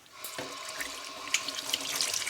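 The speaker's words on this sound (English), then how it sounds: "And then just rinse it under cold water." Cold tap water runs into a sink while an octopus is rinsed under it, a steady splashing stream with small irregular spatters, close and fairly quiet.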